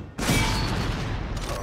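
A Sound Breathing fifth-form attack explosion in the Demon Slayer Hinokami Chronicles fighting game, a sudden loud booming blast that crackles like a fusillade and roars on without a break after a brief quiet start.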